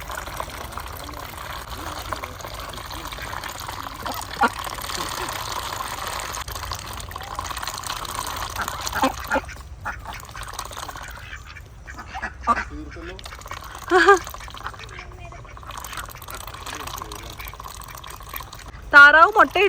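Ducks quacking near water at a family home gathering, with scattered calls and splashy, watery sounds under steady conversation from several people throughout.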